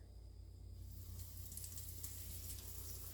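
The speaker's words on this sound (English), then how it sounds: "This one's sizzling a little more." Schnitzel frying in about half a cup of oil in a pan, giving a steady, close hiss of sizzling that holds at an even level throughout with no talk.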